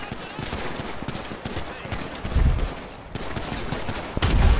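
Video game gunfire in Grand Theft Auto's Los Santos, heard as a dense, continuous rattle of shots with heavier bursts around the middle and end.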